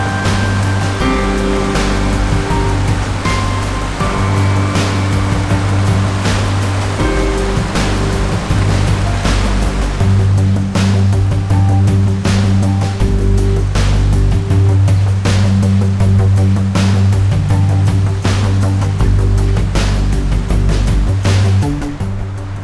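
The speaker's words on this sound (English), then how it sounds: "the water is just a little rapid right now" Fast, high water of Boulder Canyon Creek rushes loudly and continuously, a heavy roaring churn that fills the whole scene with no voices.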